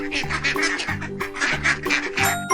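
A duck quacks repeatedly in a quick, rhythmic series of nasal calls, close and clear with no other sounds around it.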